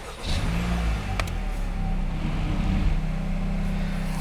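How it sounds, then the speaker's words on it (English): A 2022 Honda Civic Hatchback Sport engine starts and settles into a steady idle, a low continuous hum heard close and alone with no talk. "Let's start the engine and hear what it sounds like."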